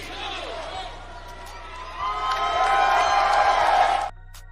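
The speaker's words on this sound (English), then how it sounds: "Enjoy that right now, the cheering" Arena crowd cheering and roaring for Mercedes Moné's wrestling debut, a steady wash of noise that swells louder partway through and then cuts off abruptly near the end.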